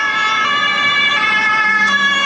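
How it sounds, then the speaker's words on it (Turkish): Police car and ambulance sirens on a Berlin street, a loud, continuous wailing siren close by with steady high tones and faint road traffic underneath. "Polis arabaları da ambulanslar da volüm olarak Türkiye'dekinden çok daha yüksek bir volümü var."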